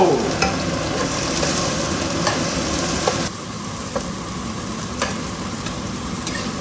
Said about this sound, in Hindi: ये डल गए प्याज, अब मिला दो।